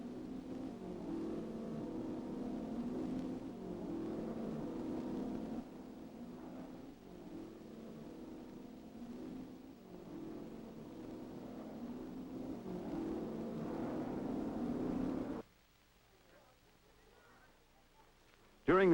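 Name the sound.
Ferrari race cars driving in 1961 road race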